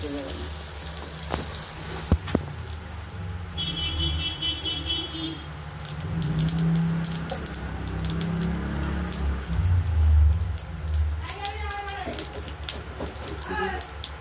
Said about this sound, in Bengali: তেল গরমই আছে, তেজপাতা, কালো জিরে আর জিরে দেবো।